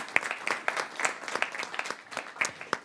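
An audience at a panel discussion on the U.S. Export-Import Bank gives a fairly faint round of applause, with individual claps distinct and sparse rather than a dense roar.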